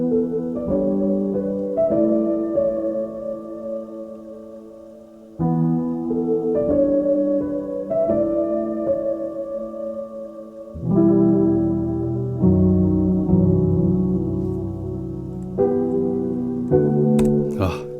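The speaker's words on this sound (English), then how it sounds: "So I'm using it to add some flutter and wow and a bit of wear." Soft piano chords play slowly with tape wow and flutter, giving a warbling, slightly unsteady pitch and worn, lo-fi tone, each chord sustaining before the next.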